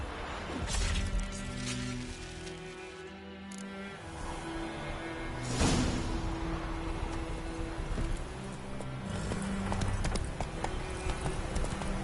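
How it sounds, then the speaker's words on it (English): Horse hooves clip-clop in The Witcher 3: Wild Hunt on PS4, a rhythmic trot of several hoofbeats mixed with game ambience, swishes and a brief crash, fairly close and continuous. "I'll ready our horses."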